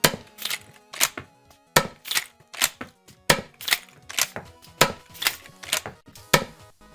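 A Nerf Model 1887 lever-action blaster is flip-reloaded again and again, about a dozen sharp plastic clacks in a quick, uneven rhythm, close and distinct with short gaps of quiet between them.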